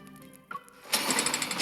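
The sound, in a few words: power hammer starting up in video game Love and Deepspace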